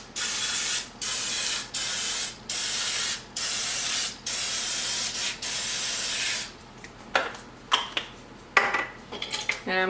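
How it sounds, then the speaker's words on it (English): Pam baking spray hisses onto a muffin tin in a series of short bursts with brief gaps, followed by light clinks and taps of metal. "I'm going to just spray my muffin tin with some of the Pam baking spray"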